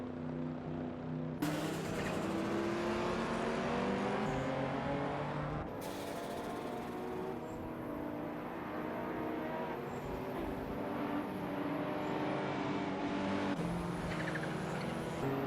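Sports cars racing around the Forli circuit in a racing video game, engines droning loudly and continuously with rising and falling revs, several cars whooshing past in overlapping waves, no talk.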